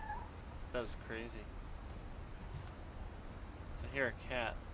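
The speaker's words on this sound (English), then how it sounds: "I hear a cat." A cat meows in the game What Remains of Edith Finch, with a few short, faint mews spaced apart over quiet ambience, the last pair a little louder.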